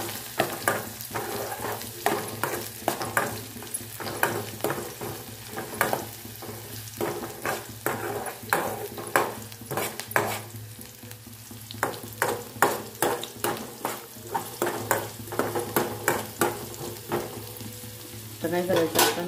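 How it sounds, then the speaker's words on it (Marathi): Chopped onion fries in a pan, browning, with a steady sizzle under frequent rhythmic scraping of a spoon stirring throughout. "हे सर्व ना कांदा जरा लाल होईपर्यंत आपण भाजून घेणार आहोत।"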